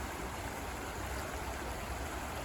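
Creek water flows steadily at a gold panning spot, a continuous soft rushing wash with no breaks and no voices.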